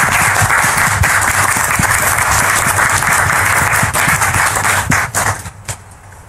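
A studio audience bursts into sustained, loud applause to welcome a guest on stage, a dense wash of clapping that holds steady before thinning out and fading near the end.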